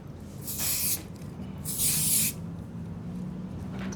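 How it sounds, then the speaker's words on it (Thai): Hair spray misted onto a freshly cut bob hairstyle in a hair salon; two short, close hissing bursts, the second longer and louder, with a faint third starting at the end. "ใส่สเปรย์ไหม"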